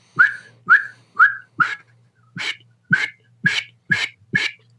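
A person whistles a series of nine short, rising chirps in an even rhythm, with a brief pause midway, shown as a way of working a whistle into duck calling; close, clear and alone against a low steady hum.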